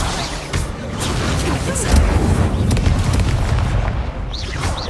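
In Hogwarts Legacy, the Incendio fire spell is cast with a loud, close roaring burst of flame and rumbling booms that keep going for several seconds, with crackling and whooshing bits mixed in.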